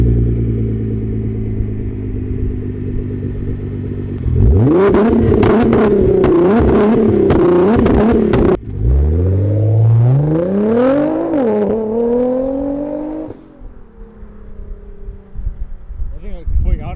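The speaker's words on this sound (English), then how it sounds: "I'll just have you start it and then just fucking haul ass that way." A widebody FRS car idles, blips its engine in quick revs, then pulls away with a loud rising engine note that climbs through the gears and fades into the distance, with voices nearby.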